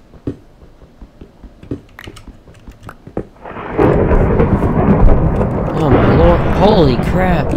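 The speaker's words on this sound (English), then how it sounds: "there's a thunderstorm. So, gonna be hearing a lot of thunder and lightning" A thunderstorm rolls through a Minecraft world, a low, broad rumble of thunder swelling in halfway through and lingering loudly, after sparse clicks and taps from gameplay, with a voice talking over it.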